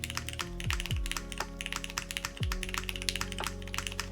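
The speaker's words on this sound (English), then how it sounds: "If this is the sound signature for the spacebar, I think this is quite different and kind of nice." Typing on a Constance TKL mechanical keyboard with a tuned spacebar: a quick, close run of crisp keystrokes with a few deeper, heavier spacebar thocks mixed in.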